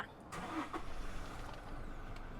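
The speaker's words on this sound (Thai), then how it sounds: "เดี๋ยวหนูขออนุญาตขึ้นไปสตาร์ทรถให้ดูก่อน" A 2020 Toyota Hilux Revo 2.4 manual pickup starting: a brief cranking catch, then a low steady idle, close and moderately quiet.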